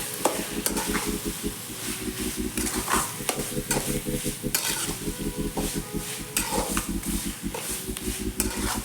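Onions fry with rock salt in a pan for dum biryani, giving a loud, continuous sizzle with repeated stirring scrapes throughout, no voices.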